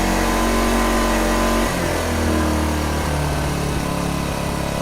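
A Powerhouse 1000 inverter generator runs on propane at high idle, a loud, steady engine drone whose pitch drops and settles partway through as it eases toward a lower idle.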